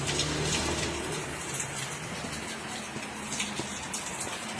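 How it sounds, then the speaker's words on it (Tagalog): Heavy rain from Super Typhoon Uwan pouring down in a steady, dense hiss of water, continuous and close, with low rumbling underneath and no clear voices. "Nag-uulan"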